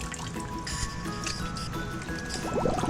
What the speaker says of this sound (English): It's also making bubbles.